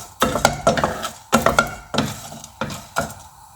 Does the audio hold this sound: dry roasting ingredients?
yes